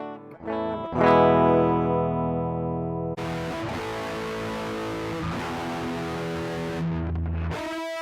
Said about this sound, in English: I added too much distortion, so the sound sounds a little bit too saturated